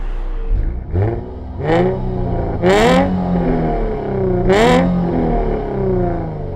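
A tuned Jaguar F-Type V6 with a Jag Madness Stage 4 tune, over 550 horsepower, revs hard in park past 4,000 RPM, with repeated loud rising blips and falling rumbles, close and alone.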